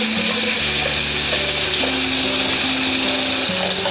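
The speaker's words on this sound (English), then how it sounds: "So I'll add rosemary into this, and I'll add all the Napolitana into this." Napolitana sauce and dried rosemary hitting a hot pan, a loud continuous sizzle and fry with bubbling tones throughout, no talking.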